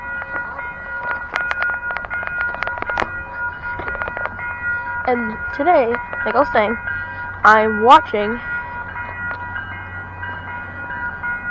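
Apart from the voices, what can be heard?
MBTA Purple Line commuter train passing Norfolk station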